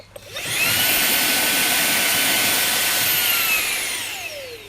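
A HiKOKI RA18DA mini cordless blower spins up and stays locked on, giving a loud, steady high-pitched whine with a rushing airflow at close range. The tone drops away at the end as the blower winds down.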